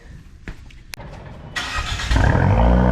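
A Fiat 124 Spider engine cranks and fires, then a loud, rumbling 500 Madness performance exhaust rises as the engine revs up.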